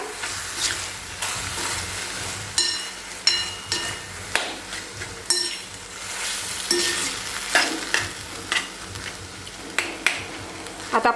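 Eggplant bharit being mixed with green chilli thecha in a pan, with a steady low sizzle and repeated scraping, tapping strokes of a spoon against the pan.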